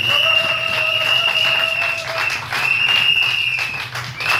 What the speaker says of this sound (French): je voudrais qu'on applaudisse très très fort encore notre diva